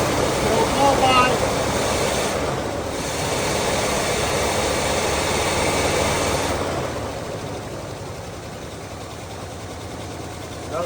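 A 1968 Chevy Caprice engine idling roughly with blow-by, a steady low rumble and hiss that softens partway through, with a voice talking briefly over it.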